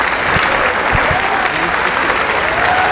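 A crowd at a women's collegiate national wrestling championship applauds and cheers, dense, loud and continuous, while an announcer talks over it.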